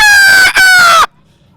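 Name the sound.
man imitating a rooster crowing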